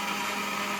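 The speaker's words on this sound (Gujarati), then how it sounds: "બરોબર મિક્સરમાં શેંગદાણા પીસાવા માંડ્યા છે" A kitchen mixer grinder grinds peanuts with a loud, steady, high-pitched whirring drone that runs without a break for the whole short moment.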